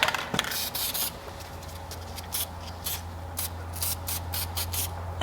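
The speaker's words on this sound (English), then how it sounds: "I spray all the electrical components with this stuff." Short hissing bursts of an aerosol can spraying the electrical components of a Western Ultramount Wide-Out snowplow, irregularly spaced, over a steady low hum and light handling noise.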